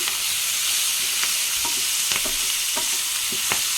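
Ponnaganti greens tossed into a pan of frying raw banana pieces, a steady sizzle broken by repeated scraping stirs of a spatula, close and without talk.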